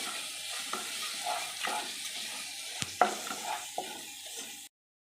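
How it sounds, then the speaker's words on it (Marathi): Garam masala sautéed in a pan, a steady sizzle and fry under repeated stirring strokes, with one sharp knock of the spoon partway through, close and moderate, then sudden silence. "हा गरम मसाला आहे तो एक चमचा टाकून आता हे परतून घ्यायचे चांगले"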